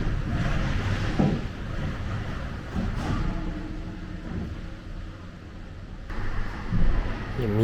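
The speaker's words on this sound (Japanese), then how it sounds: "ちょうど台風の中心が今自分が住んでいるところに来ている感じですね。" Strong typhoon winds roar and buffet the microphone in the Philippines, a dense, continuous rushing storm noise with gusts swelling and fading, while a voice speaks intermittently underneath.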